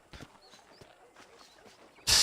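A horse ridden in the video game Red Dead Redemption clip-clops at a steady gait with soft, evenly spaced hoofbeats, then a sudden loud burst of noise cuts in at the end.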